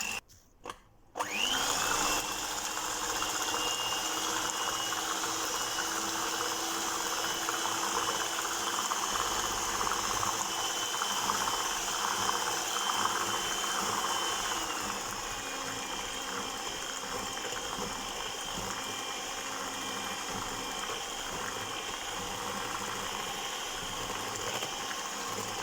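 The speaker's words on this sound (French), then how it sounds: "on va mélanger le tout au batteur" Electric hand mixer beating Philadelphia cream cheese for a cheesecake, a steady whirring motor drone with a gritty mechanical buzz, close and loud, running continuously after a brief start-up with a slight drop in pitch partway through.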